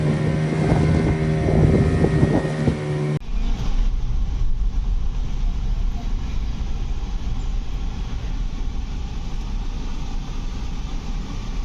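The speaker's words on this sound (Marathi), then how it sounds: "चला आता आमची बोट पण आली" Boat's engine chugging steadily near Sindhudurg Fort jetty, a loud low rumble with wind buffeting the microphone, following a brief stretch of tonal sound at the start.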